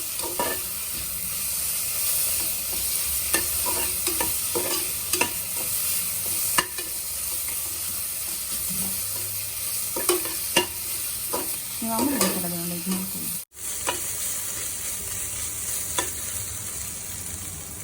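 Ginger and garlic frying in a pan for rajma pulao, a constant close sizzle broken by repeated sharp clinks and scrapes of stirring, with one brief dropout near the end.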